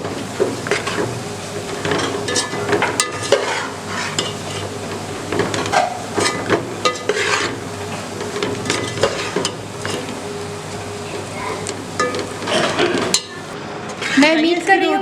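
A spoon scraping and stirring leftover roti chori with coconut, almonds and raisins in a pan, giving irregular clinks and scrapes against the metal, close and fairly loud, with a louder clatter near the end.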